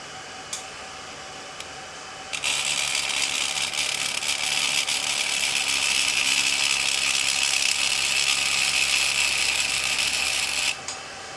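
A Boom ultra-thin vacuum sanding pad runs on its lowest setting: a few faint clicks, then a steady high-pitched whirring hum switches on and runs evenly for about eight seconds before cutting off abruptly.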